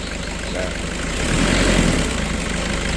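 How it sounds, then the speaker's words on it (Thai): A Toyota Vigo 2KD diesel engine is revved, its steady close rumble swelling louder for a moment before settling back to a constant idle-like drone. "เอ่อลองเร่งนี้ ช่างวีเร่งหน่อย"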